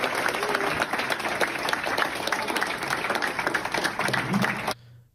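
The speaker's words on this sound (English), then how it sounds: "important that I show this video of people clapping for me" A crowd claps steadily for the speaker at his event in Fort Myers, Florida: dense, continuous applause close by that stops abruptly near the end, leaving a brief hush.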